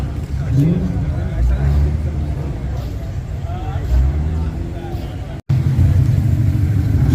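A Subaru car drives past at close range, its engine a deep, steady rumble that briefly swells, while people talk nearby over the noise.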